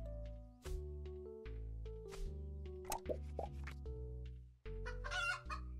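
Water chickens in a farming video game cluck and plop in bouncy, pitched bursts over a sustained tonal game soundtrack, several distinct calls spread across the passage.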